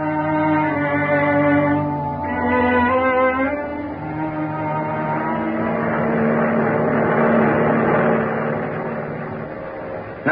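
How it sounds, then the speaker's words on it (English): A transport airplane races through the sky at high speed, a radio drama effect from 1941: a steady droning engine roar with layered tonal hum holds throughout, loud and continuous with a slight swell midway. "A transport airplane moving through the sky at high speed."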